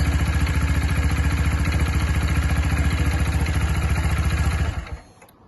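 A Sinnis Terrain 125cc motorcycle engine idles steadily after a fresh oil change, a close, even mechanical chug with a fast regular pulse that holds for several seconds before cutting out abruptly.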